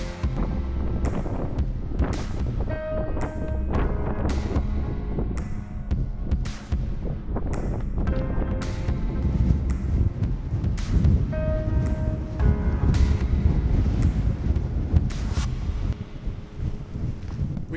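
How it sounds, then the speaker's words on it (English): Strong wind buffets the microphone in deep, continuous rumbling gusts at Craters of the Moon, Idaho, with scattered knocks and rattles throughout and no talking. "It is so windy today."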